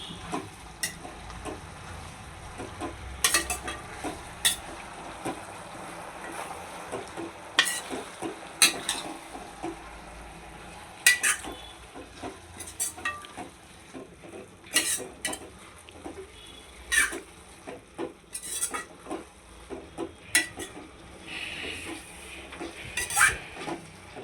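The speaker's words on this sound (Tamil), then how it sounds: "நல்லா வேகட்டுங்க. இந்த கீரை வந்து கலர் மாறாமல் இருக்கிறதுக்காக" Greens (keerai) cooking in a pan over a raised flame, stirred again and again with a metal spoon; a low sizzle runs under intermittent scrapes and clinks for a long stretch.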